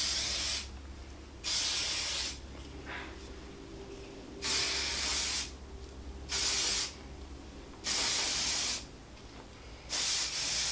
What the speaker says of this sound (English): I'm just gonna give it a little bit of a spray.